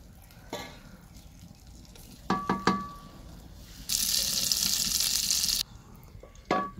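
Butter heats in a pan for a Punjabi village-style tempering. Faint stirring and clinks come first, then a loud, steady sizzle lasts nearly two seconds before a few sharp scrapes.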